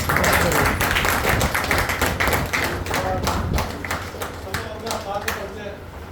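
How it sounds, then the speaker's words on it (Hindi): Audience at a live Hindi comedy stage play applauding loudly and continuously, a dense, close wash of claps with some thumps, under a steady crowd presence. "एक बार बहुत जोरदार तालियां।"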